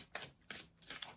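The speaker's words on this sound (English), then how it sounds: "do 3 more shuffles" Tarot cards are shuffled by hand in three quick riffling bursts with short pauses between them, close and crisp.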